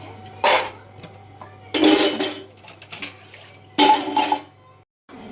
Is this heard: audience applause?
no